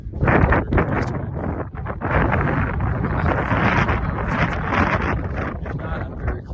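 Strong gusts of wind roar across the microphone on steep mountain switchbacks of Colorado's Mt. Princeton, a loud, continuous buffeting that surges and dips without pause.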